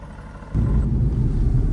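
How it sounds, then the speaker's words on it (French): A manual-gearbox Aston Martin V8 Vantage AMR with a 4.7-litre V8 shifts from a quiet idle into a loud, deep, steady engine rumble from inside the cabin. "je suis au volant de la V8 Vantage AMR en boîte mécanique donc là je vais rester en deuxième"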